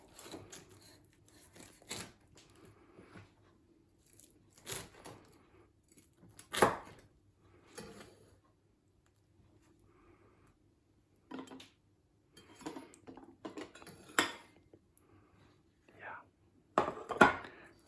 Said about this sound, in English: All right, let's cut a slice.